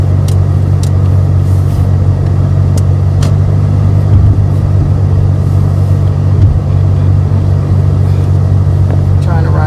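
A car driving slowly on a road, heard from inside, gives a loud, steady low engine and tyre rumble with a few faint clicks.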